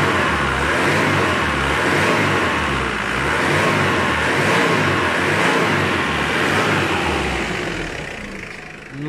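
A Mitsubishi 2.5 TD 4D56 diesel engine running after new injectors were fitted, revving loudly and steadily close by with a rough, clattering drone that swells and eases slightly, no talk.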